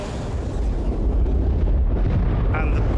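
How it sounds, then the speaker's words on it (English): A shockwave effect from the space game Star Citizen, a dense, loud low rumble swelling and holding steady for a few seconds with a brief higher whine near the end. "Shockwave."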